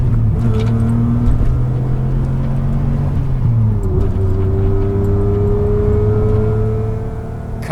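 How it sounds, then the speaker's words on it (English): A BMW fitted with a McLaren V12 engine runs with a steady, high-pitched exhaust wail over a deep idle rumble; the pitch dips and climbs slightly midway, loud and close, with no talk. "kind of wail that you get from this exhaust"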